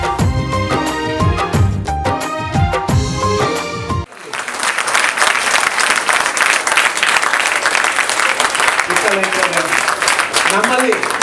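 An audience at a Kannada cultural association program in Thane claps in sustained, dense applause after a short burst of music, the clapping loud and continuous with a voice faintly under it.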